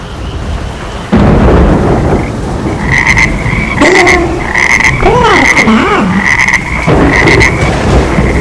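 A small green frog croaks in the rain, a run of loud, close, rhythmic croaks over a rumble of thunder and steady rainfall, with no voices.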